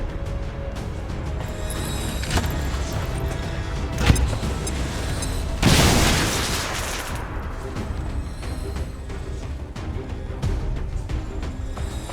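A grenade blast in the video game XCOM 2 erupts about midway as one loud broadband burst that decays over a second or so, set amid steady game background noise and scattered gunfire-like hits.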